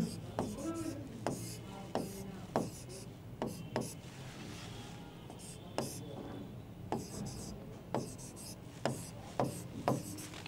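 Someone writes maths working on paper or a board in quick, faint scratching strokes, each a short separate tap or scrape. The strokes come in an irregular rhythm across the whole stretch.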